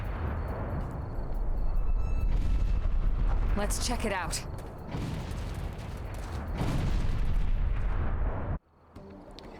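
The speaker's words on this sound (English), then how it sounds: "those boom booms are certainly ominous" Distant explosions boom repeatedly in the video game Xenoblade Chronicles X. The dull, rolling blasts come in uneven bursts over several seconds, with a voice speaking over them before an abrupt cut.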